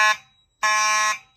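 A school fire alarm system sounds during a test: two loud, bright electronic horn blasts, a short one then a longer one, close and alone.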